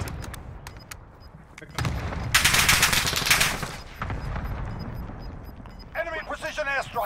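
Gunfire in Call of Duty Warzone erupts as sharp single shots, then a loud sustained burst of automatic fire in the middle of the clip, with a player talking over the action.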